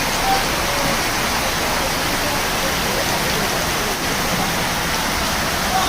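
Heavy rain pours down in Junagadh as a steady, dense hiss that never lets up, close and fairly loud, with no voices over it.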